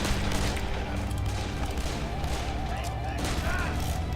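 Gunfire in the video game Darkest of Days, a dense continuous barrage of shots and booms at steady loudness throughout, with a voice faintly under the battle noise.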